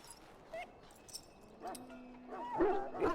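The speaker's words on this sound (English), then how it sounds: "Now I can treat the dog properly, poor fella." A dog in the Dragon Age: Origins game yips and whimpers in short, uneven bursts that build into louder barks toward the end, set over a quiet, faint background drone.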